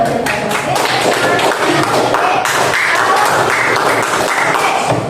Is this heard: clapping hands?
yes